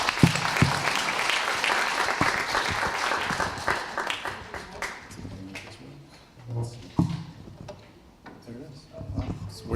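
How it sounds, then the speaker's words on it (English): An audience at a UX and data presentation applauds in a full burst that thins to a few scattered claps after about four seconds, followed by quieter room noise and speech. "let's get a round of applause for Sri"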